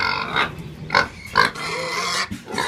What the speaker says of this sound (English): Basketball playing piglet.